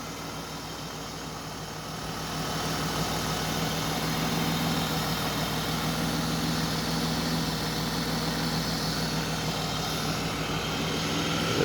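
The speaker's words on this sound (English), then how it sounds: "All right, engine running at idle." A 1995 BMW E36 M3 engine idles steadily close by, a constant even hum and rumble that swells slightly after the opening seconds and then holds.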